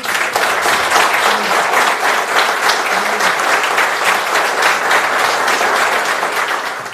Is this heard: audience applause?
yes